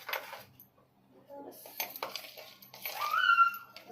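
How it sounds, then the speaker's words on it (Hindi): A spoon scrapes and clinks against a bowl while food is mixed, a few sparse, close metallic taps and rattles with quiet gaps between them. "अब यहाँ पर हम इसको अच्छे से मिक्स कर देंगे"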